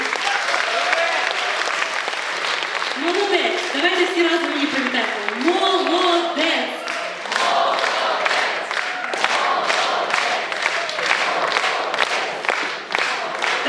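Sustained audience applause for a young girl who recited poetry at a children's Shevchenko poetry reading contest, steady dense clapping throughout with a voice speaking over it in the first half.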